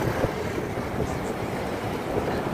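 Floodwater from heavy rain rushes along the Thenpennai river in Cuddalore, overflowing both banks and swirling, a steady broad roar with wind buffeting the microphone.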